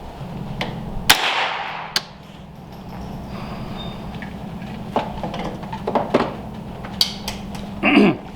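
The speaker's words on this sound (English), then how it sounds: "I'm going to run a 5-shot group now." Sharp cracks from a .22lr AR-15 rifle ring out one at a time at uneven intervals, several distinct shots over a low steady hum, fairly close and loud.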